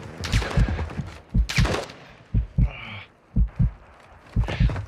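Gunfire in Call of Duty: Modern Warfare II rings out in short, punchy bursts of several shots each, spaced by brief pauses, loud and close, with a faint whistling tone between volleys.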